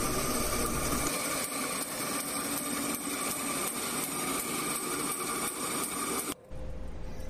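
A vertical bandsaw machine runs at variable speed, a steady high motor whine with a constant mechanical drone that continues evenly throughout, no speech.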